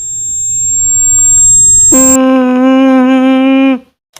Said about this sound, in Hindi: इस आवाज़ को टिनाइटनस आवाज़ बोलते हैं